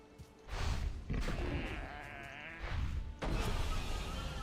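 Sheep in the Valheim video game bleat in several close, drawn-out calls separated by brief pauses, with soft thuds between them.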